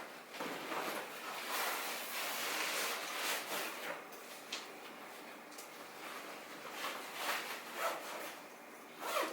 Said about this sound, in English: Zip it up like so, and it locks, which is great.